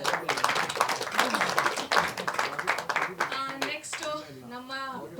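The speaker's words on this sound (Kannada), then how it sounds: "ಸರಿಗೆ ಒಂದು ಜೋರಾದ ಚಪ್ಪಾಳೆ." People clap for the film director at a Kannada movie press meet, a burst of crisp handclaps that gives way to someone speaking over the fading applause.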